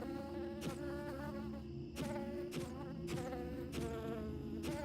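Bees buzzing in a short, simple video game, a steady droning hum with repeated soft clicks and chimes on a regular beat, fairly quiet.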